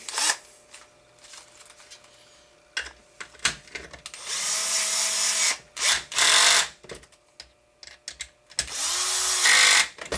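Power driver tightening screws on an HPI Baja SS radio-control car build, with several loud whirring bursts of a few seconds each, the motor pitch dropping as screws seat, separated by quiet handling clicks.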